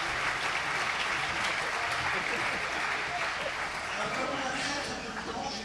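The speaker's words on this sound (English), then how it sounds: "So give him a round of applause" Sustained applause from a conference audience at a special session, steady dense clapping filling the whole stretch without pause, fairly loud and even throughout.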